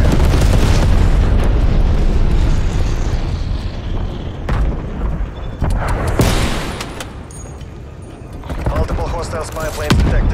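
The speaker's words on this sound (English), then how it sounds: "Enemy napalm strike incoming." Napalm strike explosions in the video game Call of Duty Cold War, a dense stretch of heavy booms and rumbling blasts with sharp bursts, loud throughout and mixed with game voice callouts.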